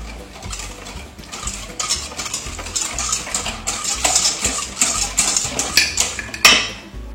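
Sugar being stirred into a bowl for Easter baking, a steady run of close clinks and scrapes from utensil against bowl with no talking.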